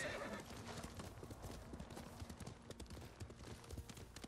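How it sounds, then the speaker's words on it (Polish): Horse hooves of a white horse clip-clop in a steady trotting rhythm in Ghost of Tsushima, faint and close, with a brief whinny early on. "Biały koń."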